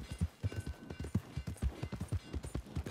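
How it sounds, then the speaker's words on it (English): Horse hooves clip-clopping steadily in Red Dead Redemption 2, a quick, even gait of close, distinct hoof strikes running throughout with no talk over it. "Pretty horse."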